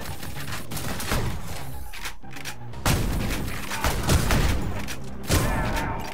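Explosions and gunfire from the retro-style shooter Ion Maiden, with several heavy booms and bursts spread across a dense, loud game mix, the biggest blasts landing near the middle and end.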